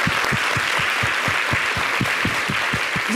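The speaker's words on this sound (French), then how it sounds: "Vous pouvez vous applaudir un petit peu?" A French TV show audience applauds, a steady wash of clapping from a crowd, with a rhythmic low thumping beat pulsing underneath throughout.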